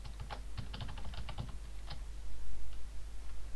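Password keys tapped on a computer keyboard in a quick, close burst of clicks, followed by a fainter soft rustling and handling noise.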